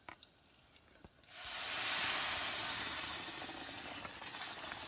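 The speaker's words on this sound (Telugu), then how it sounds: "ఇంకా పప్పు తాలింపు వేస్తే అయిపోయింది" Tempering poured into cooked lentils with amaranth greens: after faint clinks, a loud sizzling hiss bursts in and holds steady for several seconds, then gradually softens.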